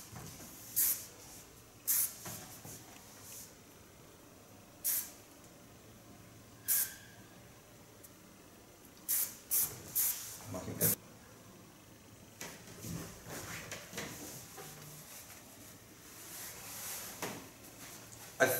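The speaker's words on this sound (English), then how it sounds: "And over this I put a hairspray." Hairspray is sprayed onto styled hair in a series of short, sharp hissing bursts, with quieter rustling and handling sounds between them and no talk.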